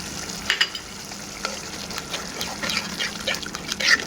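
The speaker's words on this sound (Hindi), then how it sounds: "और मसाले को अच्छे से भूनने देंगे" Masala with fresh yogurt frying in a pan for a restaurant-style mixed vegetable korma, with a steady sizzle broken by scattered wet pops, bubbling spatters and occasional stirring scrapes, close and moderately loud.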